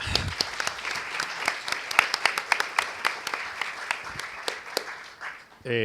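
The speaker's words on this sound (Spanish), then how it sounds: "démosle un aplauso a..." Applause from an audience at an international investigations panel session: a scattered but steady run of distinct hand claps throughout, moderately close, with no talk over it.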